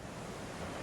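Steady broadband roar of North Sea waves and surf pounding around an offshore gas platform, continuous and loud with wind noise, no voices.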